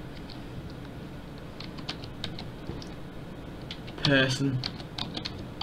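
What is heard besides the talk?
typing on a computer keyboard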